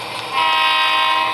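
A model train horn sounds on a layout in one sustained, steady honk that starts about a third of a second in and holds to the end, fairly loud and close.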